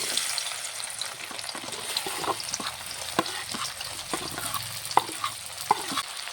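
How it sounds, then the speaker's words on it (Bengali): Okra frying in hot oil in a kadai for a Bengali bhindi curry, a steady broadband sizzle with scattered sharp pops and clacks as the pieces are turned and stirred, close and continuous with no talk. "এই ঢ্যাঁড়সগুলোকে আমি 5 মিনিট ধরে একটু ভালোভাবে এপিট ওপিট করে লাল করে ভেজে নেব।"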